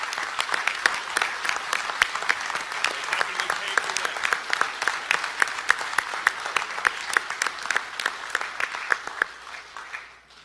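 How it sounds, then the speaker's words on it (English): A convention hall audience gives a sustained round of applause for standing Vietnam veterans, dense steady clapping from many hands that carries on for about ten seconds before tapering off at the end. "I'd like to give you all a round of applause."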